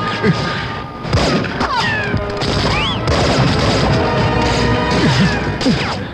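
A film action scene erupts with loud, chaotic gunfire, crashes and thuds layered over shouting voices, dense and close throughout.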